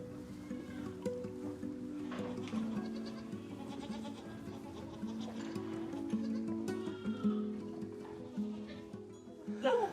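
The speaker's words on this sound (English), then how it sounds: "You'll notice the ewe is licking the lambs dry still." A ewe with newborn lambs bleats softly and repeatedly, close by, over low background rumble.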